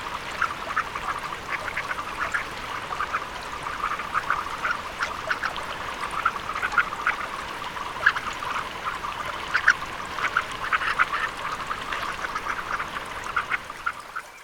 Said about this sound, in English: Surf scoter, Melanita perspiculata.